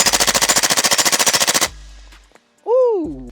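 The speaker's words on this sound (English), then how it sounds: "I think we got to shoot this thing right now." A suppressed direct blowback firearm fires a rapid burst of about twenty muffled shots in quick, even succession, then goes quiet before a voice whoops.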